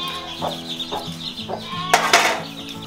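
A hen clucks in a rural village yard, a few short repeated clucks at moderate distance over steady background hum, ending in a louder burst of clatter.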